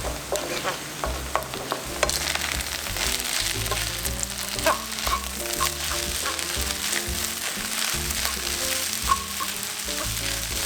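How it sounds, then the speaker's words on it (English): Eggs cracked beside garlic butter fried rice scramble and fry in a hot pan, a continuous bright sizzle with scraping stir strokes and small clicks throughout, no talking. "We're gonna crack 2 eggs on this side. And scramble it and mix it all in together."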